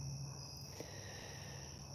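Steady, continuous cricket chirping fills the night air at a campsite, a dense high-pitched trill with no voices, holding at an even level throughout.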